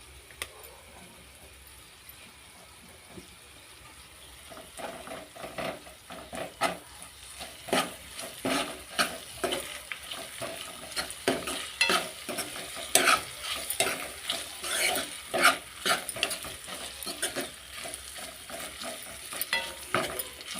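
Ginger paste frying in a pan for a vegetable curry, stirred with a utensil: a continuous sizzle under repeated scraping and clinking strokes that grow busier and louder, close by.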